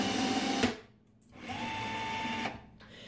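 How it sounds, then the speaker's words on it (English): A Milwaukee M12 cordless rivet tool pulling a 1/8 inch stainless steel rivet with nothing clamped in it: a close motor whine for under a second, a short pause, then a second steady whine that cuts off. "I'll go ahead and pull one of these rivets without having, you know, any sheet metal in between there so you can see it work."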